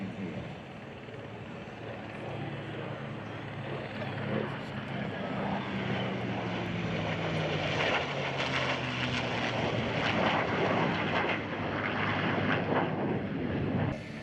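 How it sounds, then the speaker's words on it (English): An F-35 jet and a P-51 Mustang fly side by side at an outdoor airshow, a broad, rising engine roar that swells and sustains at a distance, with people talking underneath. "they brought out F-35 at the same time as a P-51 Mustang and got them to fly side by side"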